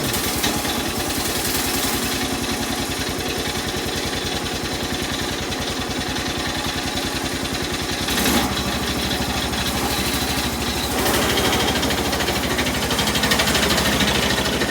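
A vehicle engine idles steadily in freezing cold weather, its rapid, even pulsing joined by a noisy clutch rattle; the tone shifts slightly partway through, close and continuous with no talking.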